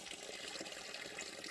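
Drinking water runs steadily from a tap or spout in a rural setting, a soft continuous splashing flow with no voices.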